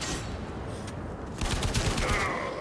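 Gunfire from the Warframe video game, a dense burst of shots that grows louder and busier in the second half, with faint talk underneath.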